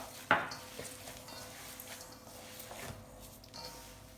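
Hands squishing and mixing ground meat with cinnamon and cumin for Greek meatballs, soft wet squelches and mushy kneading close by, with a sharp clink near the start and light bowl knocks.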